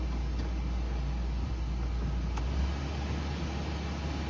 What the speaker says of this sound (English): Got the AC cranking.